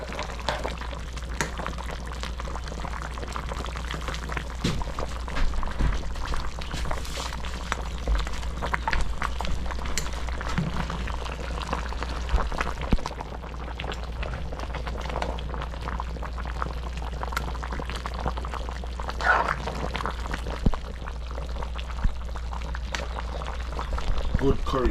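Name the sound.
curry chicken simmering in a pot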